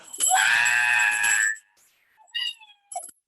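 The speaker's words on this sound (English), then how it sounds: "You get a debt-free famous scream" A loud, sustained celebratory scream lasts over a second, then a few faint, brief sounds follow.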